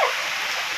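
A dense, steady hiss of heavy typhoon rain on a farm pours continuously, loud and close, with no breaks.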